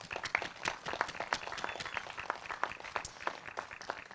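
Crowd applause at an outdoor mural celebration for the people who helped paint it, dense steady clapping from many hands with sharp individual claps standing out, loud and sustained throughout.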